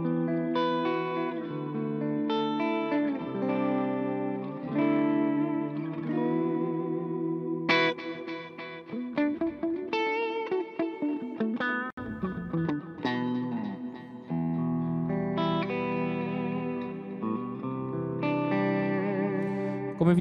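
A clean electric guitar runs through a Line 6 Helix inverse-wave chorus with no distortion. Shimmering chorused chords and melodic lines play alone for about twenty seconds, with some sustained notes and brief pauses.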